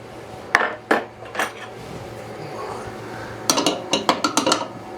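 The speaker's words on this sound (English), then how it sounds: "I need to get a wrench under there and tighten up those nuts." A wrench tightens 17 mm nuts while a Jet 1-1/2 HP cyclone dust collector is assembled. Sharp metallic clinks ring out nearby, a few spaced taps at first, then a quick cluster of clanks.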